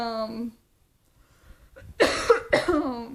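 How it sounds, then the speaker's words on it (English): A voice trails off, then after a short silence two harsh, close coughs burst out in quick succession. "I have a cough suddenly."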